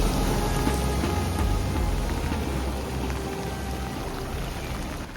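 Light rain falling over a flooded road, a steady, close broadband hiss of drops pattering on surfaces and water, continuous and even throughout.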